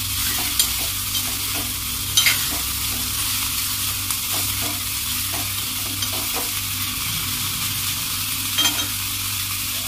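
Stuffed eggplant and onion with homemade masala frying in a pan, a loud constant sizzle broken by repeated scraping stirs of the spatula, close and without talk.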